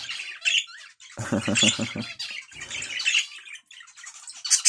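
Harsh, repeated budgerigar squawks and chirps, close and loud, with a burst of Turkish talking voice partway through.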